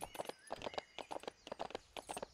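Horse hooves clip-clopping in a ranch video game, a steady rhythmic trot of even hoofbeats, fairly quiet and continuous with no talking over it.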